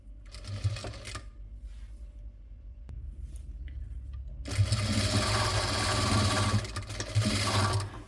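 Sewing machine stitching two fabric pieces of a child's skirt together, a fast steady whirring run that starts partway in, preceded by quieter handling noises.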